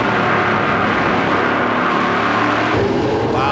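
Race cars in the 2010 Keystone Light 200 roar around the track in a dense, continuous engine drone, with rising revs near the end of a loud, steady burst.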